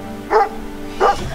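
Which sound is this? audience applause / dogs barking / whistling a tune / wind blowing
dogs barking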